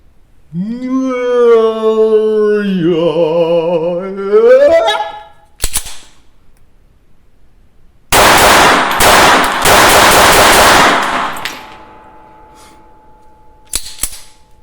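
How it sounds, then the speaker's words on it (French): A black powder rifle fires in a video game: a long wailing, rising tone gives way to a sharp crack, then a loud dense burst of gunfire lasting a few seconds, fading to a low hum with a final short report. "teuton qui me tire dessus avec son modèle 1883. Poum! Poudre noire, plein de fumée."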